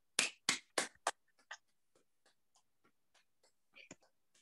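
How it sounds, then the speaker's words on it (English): Clapping from a lecture audience: four sharp, close handclaps open, followed by a few scattered, much fainter claps trailing off. "Well, at least you clapped."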